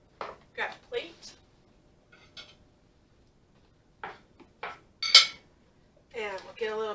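A plate is picked up and handled while serving a kale salad, giving a few light clinks and taps of dishware close by, scattered between bits of talk.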